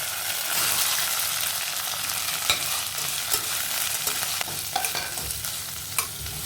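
Onions frying in a pan with a steady, close sizzle and repeated scraping stirs from a spatula, no voices over it.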